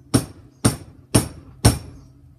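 A pine dowel is struck with a hammer to drive out the handle of an old Kent pattern carving axe, four sharp, evenly spaced blows, close and alone.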